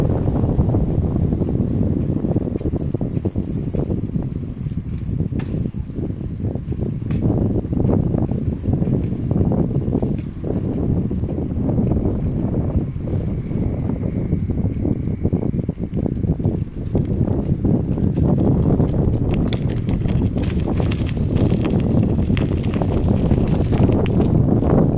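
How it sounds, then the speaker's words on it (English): Strong wind blows outdoors on Apparition Hill in Medjugorje, a loud, constant low rumble and buffeting across the microphone that carries on without letup for the whole stretch. "Wind."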